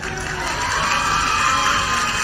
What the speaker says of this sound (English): big cheer for that.